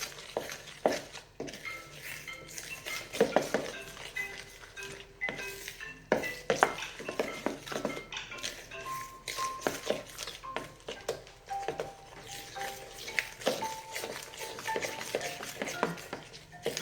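Peach cobbler batter being stirred with milk in a bowl, a steady run of soft scraping and clinking utensil taps against the dish, close and fairly quiet, with no talk.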